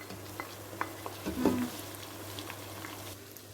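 Spices and green chillies frying in a pan for a degi-style palak chicken, a soft steady sizzle with light stirring and a brief louder scrape midway, no talking.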